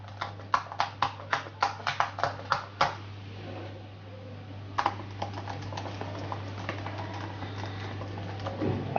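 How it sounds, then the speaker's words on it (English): Keys clatter on a 2019 MacBook Pro 15-inch laptop keyboard with soft bottoming-out, first in a quick run of evenly spaced taps, then a pause, then lighter, faster typing, all close and fairly quiet over a low steady hum. "I think the new keyboard sounds a bit different, and it also has a different bottoming out action, which is softer"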